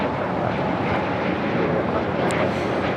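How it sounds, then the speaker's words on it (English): A Spirit Airlines Airbus A320neo takes off at Los Angeles International Airport, its jet engines a loud, continuous broadband roar held at steady strength throughout. "This is Spirit Airlines 836 taking off to Atlanta on the A320neo"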